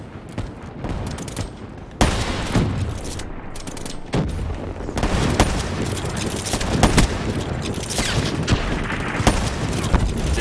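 Gunfire from a Black Ops 3 match, including sniper rifle shots, bursts out loudly in sharp repeated cracks and rattling volleys, with mechanical clicks and booms between them.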